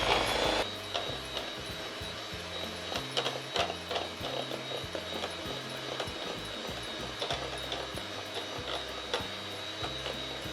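Electric mixer beating cupcake batter with milk, a steady whirring motor with rhythmic pulsing knocks as the beaters turn in the bowl, close and continuous with no speech.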